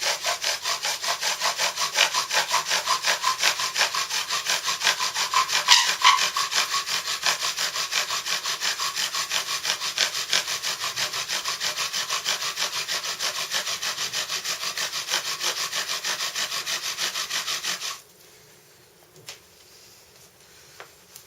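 Steady, rhythmic rasping of a bow drill's wooden spindle grinding against a board, continuous and close for most of the clip before stopping abruptly near the end.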